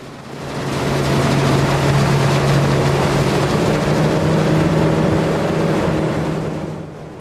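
Droning outboard motors of racing boats on water, including a 9.9 horsepower motor, a steady buzzing hum that swells and fades as they pass, no talking.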